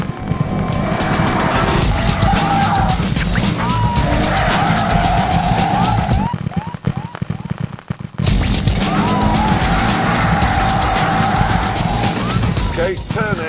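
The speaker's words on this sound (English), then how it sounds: "turn in, and immediately the back is sliding" A Toyota on skinny Prius tyres slides through a turn, its engine revving hard while the tyres squeal in long stretches, broken by a brief lift off the throttle before the skid picks up again. The sound is loud and close.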